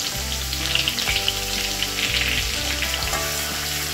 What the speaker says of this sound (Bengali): এই আদা কুচি আর লঙ্কা কুচি আমি সামান্য একটু ভেজে নেব, একটু নাড়াচাড়া করে নিচ্ছি তেলের সাথে।